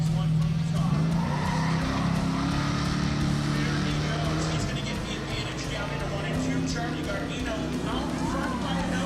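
Drag racing cars accelerating hard down the strip in the final race at a spectator drag event, loud continuous engine roar with rising revs and some tire noise, crowd and talk mixed underneath throughout.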